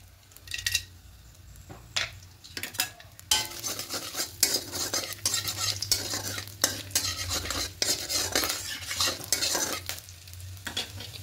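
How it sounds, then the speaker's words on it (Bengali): Whole cinnamon, cardamom and cloves tempering in hot oil for a cauliflower-potato egg curry, with a close sizzle broken by loud spoon scrapes and clanks against the pan. "এবার এখানে ফোড়ন দেব দারুচিনি, এলাচ, লবঙ্গ।"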